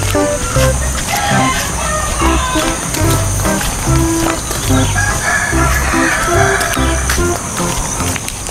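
Chickens in a village in Wonorejo, Yogyakarta cluck repeatedly and a rooster crows, loud and close, with faint background talk.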